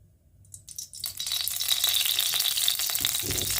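Oil hits a hot pan to temper chickpeas and bursts into a sizzle after a quiet moment. It swells into a steady, bright, crackling fry with light clinks of utensils near the close.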